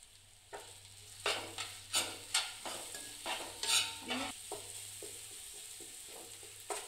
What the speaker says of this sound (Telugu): 2 స్పూన్లు అల్లం వెల్లుల్లి పేస్ట్ వేసుకున్న తర్వాత బాగా కలుపుకోవాలి